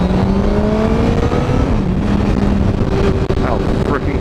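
A 2016 Honda CBR1000RR Fireblade SP sportbike accelerating through the gears on a road ride, its engine a steady drone buried under heavy wind rush, with the pitch climbing near the end.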